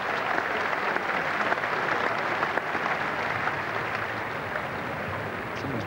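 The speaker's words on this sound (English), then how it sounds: "he does earn the rich applause" Crowd at Lord's cricket ground applauding Martin Crowe's fifty in a 1986 England v New Zealand Test, a broad, steady wash of clapping that holds at an even, fairly loud level throughout.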